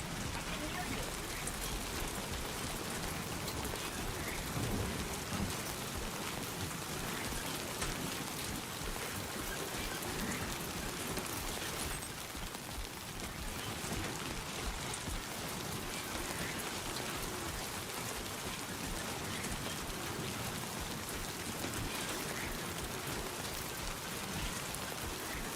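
Steady, dense rain falls in a video game, a continuous hissing patter of drops on surfaces with no distinct thunder, heard close and even throughout with faint voices beneath.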